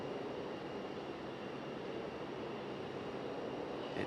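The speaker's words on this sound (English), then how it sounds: "we got an American A321 making its way out to the runway there" An American Airlines Airbus A321 jet taxis toward the runway at Raleigh-Durham International Airport, producing a steady, broad engine rumble and whine that holds constant and moderately distant throughout.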